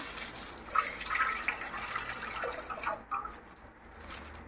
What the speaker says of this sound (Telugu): కానీ నేనైతే కొన్ని నీళ్ళు అయితే పోస్తా